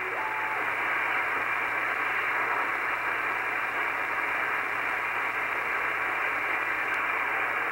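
A shortwave amateur radio receiver tuned to the 17-meter WARC band gives a steady, even hiss of band-limited static with no clear signals, a faint hum running beneath.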